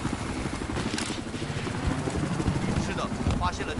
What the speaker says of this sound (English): 发现了敌军直升飞机。